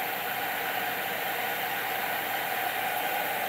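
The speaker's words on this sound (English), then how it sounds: "Looks like a Batmobile blow dryer, but it's my heat gun." A heat gun blows steadily to dry paper for a DIY scratch-off card, giving a constant loud hissing whoosh with no change in pitch and no voices.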